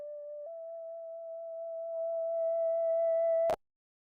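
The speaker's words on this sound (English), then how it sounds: "I added distortion because this sound is just kind of like one sine wave" A plain synthesized sine-wave tone with distortion holds steady, rising slightly in loudness, with faint harmonics above it, then cuts off with a brief click.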